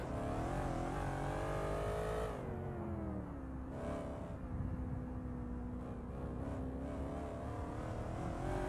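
Hypercars racing in a simulator game at the Tor Poznań circuit, engines whining loudly at high revs with pitch rising, then dropping and changing as cars shift and pass, continuous and close.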